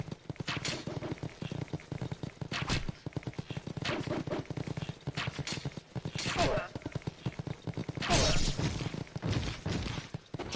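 Rapid gunfire in a horseman fighting video game, bursts of sharp shots and volleys aimed at the player, mixed with hoof-like clatter, while a player talks angrily over it.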